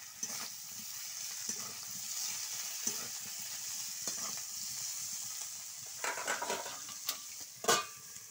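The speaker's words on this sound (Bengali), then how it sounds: "আমি আলু, পটল আর কাঁচা কলা একসাথে দিয়ে একটু নেড়ে ভেজে নেব।" Potato, pointed gourd and raw banana fry together in a pan, a faint steady sizzle under repeated scraping and clinking of a spatula stirring the pieces, with louder bursts of stirring toward the end.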